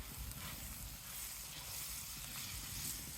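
Butter sizzles in a hot pan over an open fire, a faint steady hiss with low crackling, brief and quiet, with no talking.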